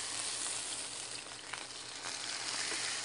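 Steak sears in a pan on a Fagor portable induction cooktop, cooking toward medium rare, with a steady, loud, close hiss and crackle of fat that runs unbroken and alone throughout.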